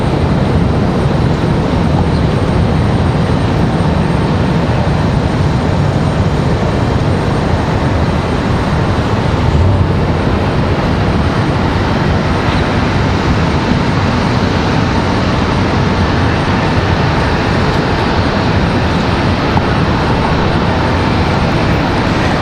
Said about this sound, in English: Looks like we got another Delta CRJ, Endeavor 5097 coming in from JFK. CRJ 900.